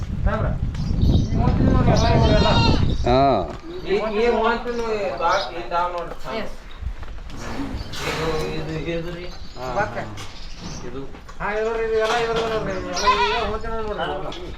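A flock of mixed-breed sheep bleats over and over in a crowded sheep yard, with loud, close cries overlapping one another and people talking among them.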